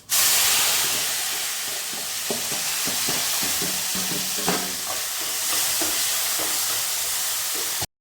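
Raw mango pieces tipped into a pan of hot oil with mustard seeds, then stirred, give a loud, constant sizzle with clinks and scrapes of the spoon over it.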